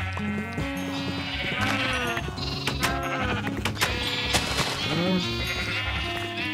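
Sheep in the Minecraft video game bleat over and over, many overlapping nasal calls from a crowded flock, loud and close, with a voice speaking briefly among them.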